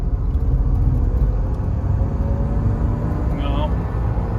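A Mercedes W124 300E with a transmission that won't shift on a test drive: a steady low engine and road rumble fills the interior, close and constant, with a brief higher tone near the end.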